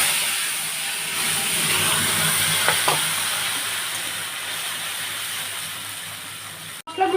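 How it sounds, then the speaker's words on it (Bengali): Spice paste goes into hot oil in a kadai for a prawn korma, a loud, steady hissing sizzle that fades slightly over time, with a brief utensil clatter near the end. "আমি যে মশলাগুলোই দেখিয়েছি এই মশলাটা দিয়ে দিচ্ছি এর মধ্যে,"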